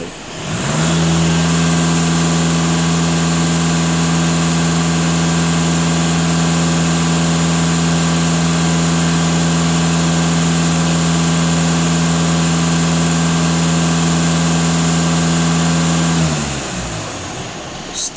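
A VW Passat 2.0 TDI diesel engine is held at about 2500 rpm, a steady sustained drone that stays constant and loud, then drops back toward idle at the end.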